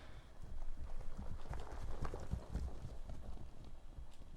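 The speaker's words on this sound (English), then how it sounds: "That's such a clean sample of the horse, man." Horse hooves clip-clop in Silent Hill 2, a steady run of muffled hoofbeats at moderate distance over a low background rumble, with no talking.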